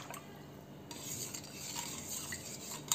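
A spoon stirring spiced buttermilk with salt in a vessel, soft scraping and swirling liquid sounds, quiet and close, continuing steadily for a few seconds with a small clink at the end.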